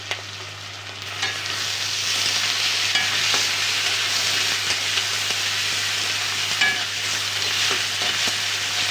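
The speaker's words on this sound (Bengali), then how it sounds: "পেঁয়াজ, কাঁচামরিচ, আদা খুব সুন্দর ভাজা হয়ে গেছে" Onion, ginger paste and green chili fry steadily in a pan, a continuous close sizzle with soft stirring scrapes and occasional small pops, and no voices.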